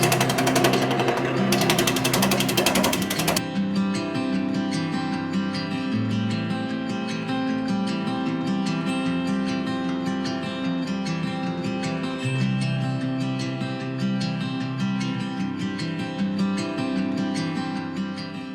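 Wood lathe at slow speed turning a tenon on a live edge cedar vase blank, a steady loud mechanical hum with dense tonal drone and a harsher burst of cutting noise at the start, no talk.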